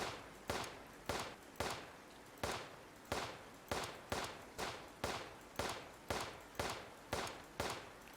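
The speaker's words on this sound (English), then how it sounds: "Skeet shoot. Now, this is something I've got a little practice with." Regular shotgun blasts from a skeet shooting arcade video game, about fourteen sharp reports spaced roughly half a second apart, each with a quick decaying tail, steady and fairly loud with no talk over them.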